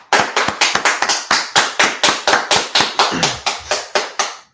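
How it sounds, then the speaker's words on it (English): An audience claps at a gathering of the Israelite School of Universal Practical Knowledge in Washington, D.C., about sixteen sharp, evenly spaced claps in unison, loud and close with no talk. "All right, let's clap it up."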